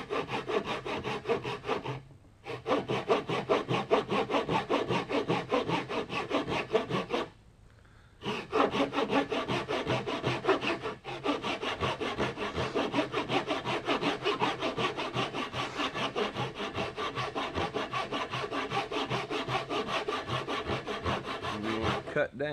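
A hand saw cuts a wood tenon for a mortise and tenon joint in steady, rapid back-and-forth rasping strokes, with two brief pauses and close, even texture.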